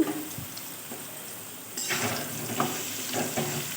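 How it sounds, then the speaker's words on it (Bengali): Potatoes fry in hot oil in a pan, a steady close sizzle with the scrape and rustle of stirring growing louder partway through, with no talking. "আলুগুলো লাল লাল করে ভেজে দিয়ে দিলাম"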